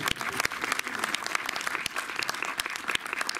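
An audience in the Méliès cinema in Montreuil applauds Jacques Doyon after a film screening, with thick, continuous clapping that stays loud and even from start to finish.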